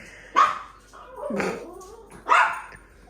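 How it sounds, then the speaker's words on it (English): A small female dog, about the size of a loaf of bread, barks three times nearby in a quiet indoor room. The barks are sharp and yappy, with a whiny yelp between them. "Sorry about my dog."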